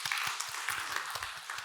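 Church congregation at a mission revival meeting clapping together to give glory to God, a brisk run of many overlapping hand claps from a moderate distance, fairly even throughout.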